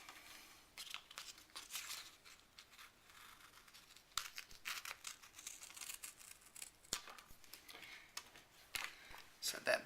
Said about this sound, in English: I'll use some scissors to go around the G.